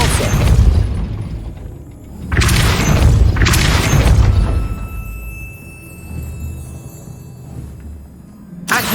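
Depulso spell impacts in Hogwarts Legacy, several heavy booming blasts with crashing debris in quick succession, followed by a quieter lingering rumble and a faint tone.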